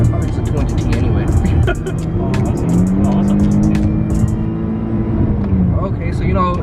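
An Infiniti G37 sedan accelerates hard from inside the cabin, its engine note steadily rising and droning under loud, continuous road and wind noise.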